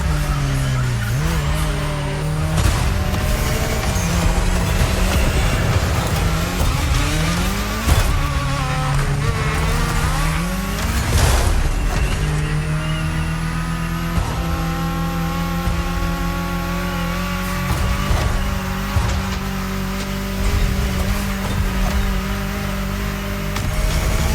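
A car driven through the state capitol in Hawaii in The Crew Motorfest, with an engine revving up and down and repeated tire squeals and skids over a steady roar and in-game background sounds.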